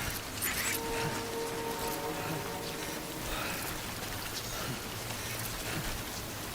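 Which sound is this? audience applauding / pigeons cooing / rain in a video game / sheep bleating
rain in a video game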